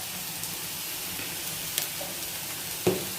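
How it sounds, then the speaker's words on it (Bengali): Chopped onions with two spoons of gram flour fry quietly in a pan, giving a soft, continuous sizzle with a couple of brief clicks of stirring. "তো পেঁয়াজটা একটু ভাজা ভাজা হয়ে গেছে, এখন এর মধ্যে দিয়ে দিচ্ছি 2 চামচ"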